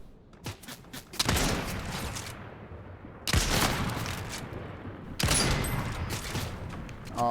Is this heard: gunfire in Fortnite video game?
yes